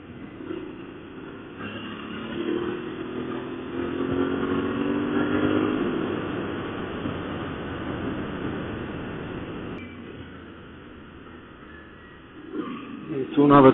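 Aprilia Tuareg 660 motorcycle being ridden, engine droning and revving through a swell of wind noise, then easing off before a louder burst at the end.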